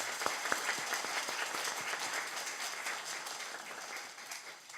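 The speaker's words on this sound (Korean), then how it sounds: "환영의 박수를 보내겠습니다." Congregation giving welcoming applause to visiting delegates during a Sunday worship service at a church, a few sharp separate claps quickly building into soft, continuous clapping from a hall that fades toward the end.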